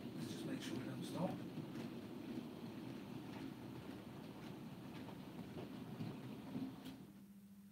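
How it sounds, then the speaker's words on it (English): A class 42 train passes over points at Stoke Summit with a steady rumble and faint rail clatter, heard from a distance and holding at an even level before it cuts off near the end. "the cold train's going past the point now"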